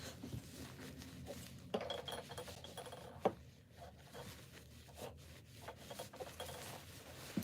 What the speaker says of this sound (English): now that we have that cut, gonna clean the blade a bit.